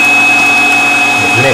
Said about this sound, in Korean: 청소기로 빨아들이시면 됩니다